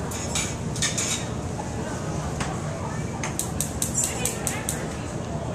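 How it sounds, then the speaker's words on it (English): A metal lid set onto a cooking pot of mushrooms on the stove, a series of close, bright clinks and rattles against steady background noise. "put the lid on"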